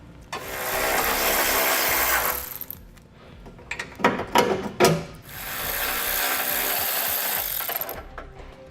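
A ratchet loosens 14mm bolts holding a car's front bumper beam during a transmission cooler install, with bursts of rapid clicking and metallic cranking broken by short pauses and a few sharp knocks.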